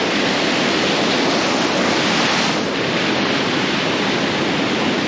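Steady, loud rushing water from a waterfall with a huge drop in Gasterntal, Kandersteg, Switzerland, roars continuously, a broad wash of white noise with no pauses and no voices.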